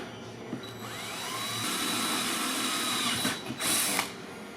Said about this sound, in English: I'm gonna drill the other two holes now that that's in place.